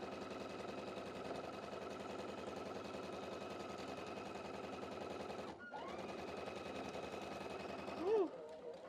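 A sewing machine joining quilt rows together runs in a steady fast mechanical whir with rapid needle clatter, briefly pausing then resuming, quiet and close.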